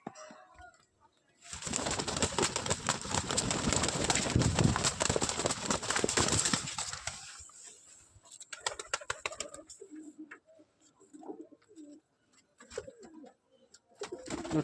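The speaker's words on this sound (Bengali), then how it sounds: "এটা হচ্ছে আমার ঘরে বুড়ো পায়রা, সবচেয়ে পুরাতন মদ্দা পায়রা" An old male Lotan pigeon coos and bustles nearby, a dense burst of rustling and wing flutter for several seconds followed by scattered scratchy movements and soft cooing.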